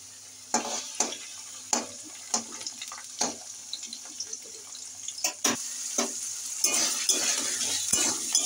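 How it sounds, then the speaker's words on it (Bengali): Potatoes and whole cumin fry in mustard oil in a kadai, with a light sizzle beneath a series of sharp scraping and stirring knocks, roughly one every half second, and no talking. "আলুগুলো একটু ভালো করে ভেজে নেবো আগে।"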